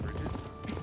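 Horse hooves clip-clop in a video game near a bridge, a quick, steady, close patter over a constant low background hum lasting under a second.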